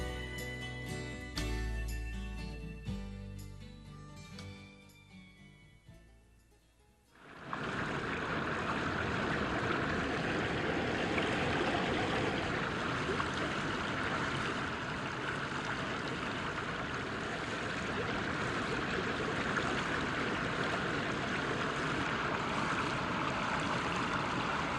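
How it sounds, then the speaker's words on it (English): Mountain stream in the Great Smoky Mountains rushing steadily and loudly after a brief stretch of tinkling music, the water's broadband wash continuing unbroken and close for the rest of the clip. "The sound of water is the music of the mountains."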